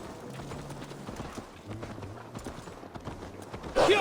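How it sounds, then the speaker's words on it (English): A horse's hooves clip-clop in a steady rhythm in Assassin's Creed Valhalla, moderately loud against game ambience, with a sharp brighter noise bursting in at the very end. "Let's return the horse."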